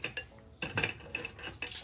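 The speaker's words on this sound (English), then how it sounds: "All the silverware is mismatched vintage silverware." Mismatched vintage silverware clinks and scrapes in a home kitchen, a few bright metallic rattles and taps arriving in short bursts, close and moderately loud with no talking.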